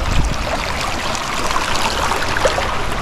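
A river near Capula, Chiquilistlán, flows steadily as a continuous broadband rush of water, close and even throughout with no voices.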